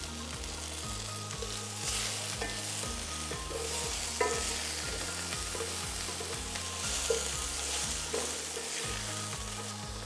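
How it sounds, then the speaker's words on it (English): Raw chicken sizzles and crackles in a hot oiled pan, a loud continuous frying hiss with occasional stirring scrapes and sharper pops, no voices. "So you want to hear this sizzling."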